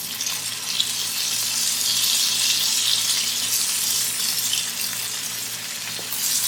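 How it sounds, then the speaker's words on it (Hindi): Spring onions sautéed with butter and garlic prawns in a hot pan, making a loud, continuous sizzle that stays steady from start to finish, close by and without speech. "तो इससे भी सॉटे करेंगे"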